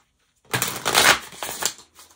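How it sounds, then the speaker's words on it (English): A quick riffle of tarot cards being shuffled, a close, crisp flurry of paper flicks lasting about a second and a half, then settling. "one last shuffle."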